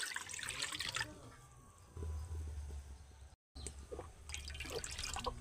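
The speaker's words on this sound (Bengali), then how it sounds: "চার বাটি জল দিয়ে দিলাম" Water poured into a cooking pot, splashing and trickling in short bursts with brief gaps between pours, fairly quiet and close.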